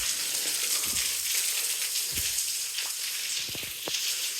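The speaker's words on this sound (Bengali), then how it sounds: "বৃষ্টির পানি পড়তেছে" Rain pouring steadily outside a corridor of a duplex garden house, a loud, constant hiss of water falling, with a few scattered low knocks and drips close by.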